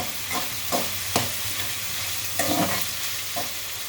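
Amaranth leaves and potato fry in a pan, stirred in rhythmic scraping strokes about every half second over a constant close sizzle, with no voices.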